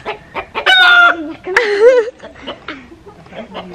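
Chickens cluck and squawk up close, with a couple of loud, drawn-out calls and quieter clucks around them.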